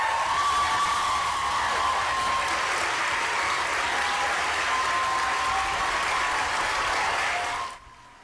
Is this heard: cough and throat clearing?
no